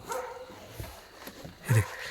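Village dogs barking at night in a Sunderkhal settlement during a leopard rescue, a few short, fairly distant barks and yelps spread over a quiet background, with one louder bark near the end.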